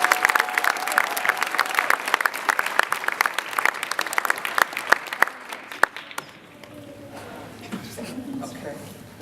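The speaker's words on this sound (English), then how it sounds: "Please give him a round of applause." An audience applauds a presenter about to talk about a trip to Japan, lively close clapping for about five seconds that then fades into quieter room noise with a few stray claps.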